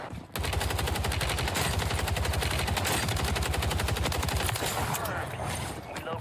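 Rapid automatic gunfire from the SOA Subverter rifle in Warzone 3 on Rebirth Island rattles in a long, dense sustained burst, loud and close, with faint game sounds behind it.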